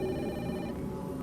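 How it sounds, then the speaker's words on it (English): A telephone rings inside a video game, a brief steady electronic trill heard alone and fairly clear for a moment before it fades. "Is the phone ringing?"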